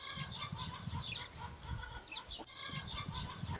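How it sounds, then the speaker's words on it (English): Hen clucking while laying an egg, a series of rhythmic, fairly faint clucks in the background over steady low outdoor rumble, with no talk. "Chicken's laying an egg."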